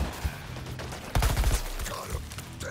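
Gunfire in the Suicide Squad: Kill the Justice League game, with a quick rattling burst of shots in the middle amid game noise and faint voice.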